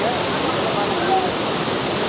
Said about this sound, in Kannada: ಇಲ್ಲಿ ಬಂದು ಸ್ನಾನ ಮಾಡೋಕ್ಕೆ ಮಾಡಿರುವಂಥದ್ದು ಇರೋವಂಥದ್ದು ನ್ಯಾಚುರಲ್ ಫಾಲ್ಸು